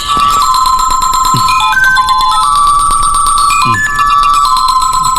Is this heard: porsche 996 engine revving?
no